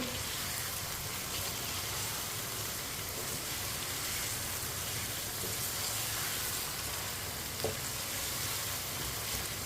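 Chicken fries in a pan with onion and garlic and is mixed in, producing a steady, rain-like sizzle that holds even throughout, with a faint stirring clink partway along and no talking.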